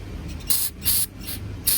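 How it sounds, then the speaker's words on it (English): Three short bursts of carburetor cleaner spray hiss close by onto a spark plug of a 1999 Land Rover Discovery, each lasting a fraction of a second, over a low mechanical hum. "cleaner, air intake cleaner, spray some on there."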